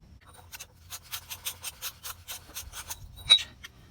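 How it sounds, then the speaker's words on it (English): A ratchet cranks in quick, even clicks while tightening the oil filter on a Toyota Avalon, about a dozen close, crisp ratchet strokes in steady rhythm, heard alone. "That was my ratchet."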